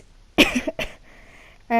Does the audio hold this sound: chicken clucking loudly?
no